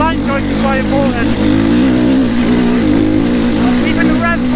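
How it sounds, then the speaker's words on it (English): Enduro motorcycle engine held at low, steady revs while climbing a hard, rocky slope, a continuous close droning buzz with small throttle fluctuations and talk over it. "Keeping the revs quite low."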